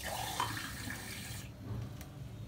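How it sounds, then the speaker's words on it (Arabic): Water splashes steadily from a container into a baking dish of sliced potatoes for a potato gratin, a soft close pour lasting over a second before trailing off into quiet. "بعدا غادي ندير لهم الماء"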